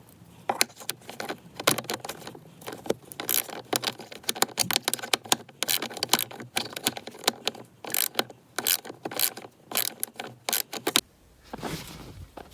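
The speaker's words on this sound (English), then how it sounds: "that back bolt, I had to use a ratchet wrench" Ratchet wrench with a socket removing a bolt in a tight spot on a Dodge Caravan heater fan, rapid close clicking in irregular bursts for about eleven seconds before stopping.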